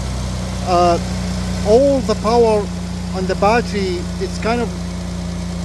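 A 3.6 liter car engine idles with a steady, low, even hum while someone talks over it in short phrases.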